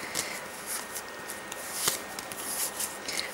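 Playing cards shuffled and flicked through by hand, a close run of quick papery riffles and snaps.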